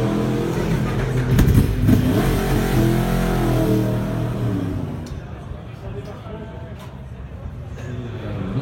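An endurance racing motorcycle from the 24 Hours of Le Mans revs hard in the paddock, loud and close, its engine rising and falling before it fades, with people talking nearby.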